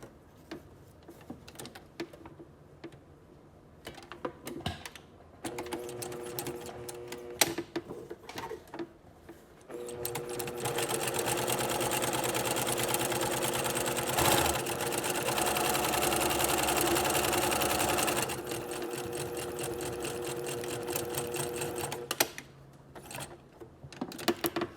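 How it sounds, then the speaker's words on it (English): Sewing machine stitching a plain half-inch seam in fabric with backstitching at both ends, a steady mechanical whir that starts in short bursts, runs continuously and loud through the middle, then eases to a lower hum before stopping. "we're going to begin by sewing a plain seam at 1/2 inch seam allowance"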